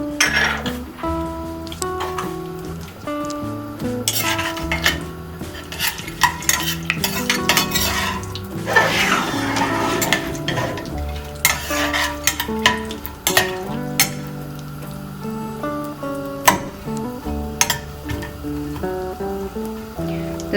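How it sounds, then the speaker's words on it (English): Pistachios, pumpkin seeds, almonds and cashews dry-roast in a pan, stirred with steady scraping and light clinks of a utensil against the metal, over a continuous musical background. "So first I'm going to dry roast our dry fruits"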